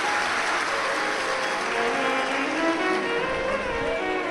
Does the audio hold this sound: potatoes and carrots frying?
no